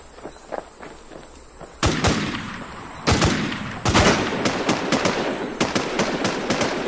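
Gunfire in the zombie shooter game WarZombie: loud, sharp shots ring out, first singly and then in rapid irregular volleys, over quieter background game noise and soft footstep sounds.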